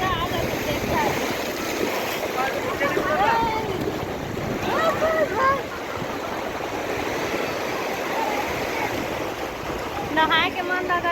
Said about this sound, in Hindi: बड़े वाला लहरा आते तो पूरा आ जाते देख सकते।